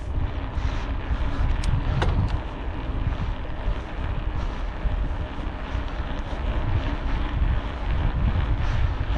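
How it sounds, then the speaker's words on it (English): Steady, roaring headwind buffets the microphone while cycling on a country tour in Upper Bavaria, Germany. It is a loud, continuous rumble with no talking. "There's a little bit of front wind."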